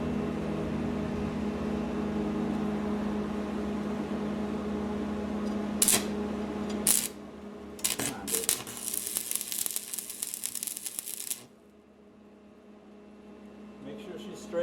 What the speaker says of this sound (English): I'm almost ready to start welding the center block.